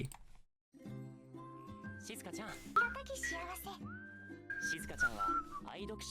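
Bright melodic whistling from an anime opening song (100 Girlfriends) rides over a full band backing, with short rising whistled phrases and sustained notes after a brief gap near the start.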